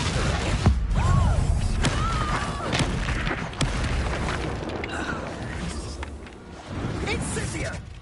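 Blasting spell explosions from the Hogwarts Legacy open-world game, several booming bursts with crackling debris layered over a shouting voice calling out spells, loud and close throughout.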